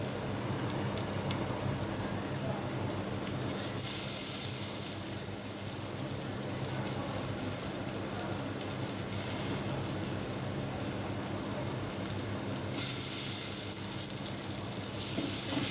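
Curry leaves fry in hot oil alongside besan, giving a steady, close, hissing sizzle like rain that stays constant throughout, without any voices.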